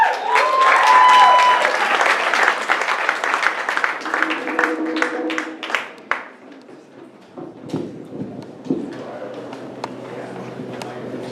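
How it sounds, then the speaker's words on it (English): Audience applause greets a performer being introduced at a showcase, loud clapping at first that gradually thins into scattered claps and quieter room noise. "Give him a round of applause."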